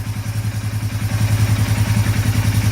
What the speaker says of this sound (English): I figured I'd go in the workshop here today, start my four-wheeler up,